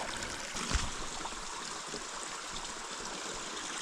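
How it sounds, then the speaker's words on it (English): A small side creek pours into a larger stream along a hiking trail in Turner Hollow, a steady close rush and gurgle of flowing water with no voices. "Got a little side creek coming in here. Pretty much quadrupling the flow."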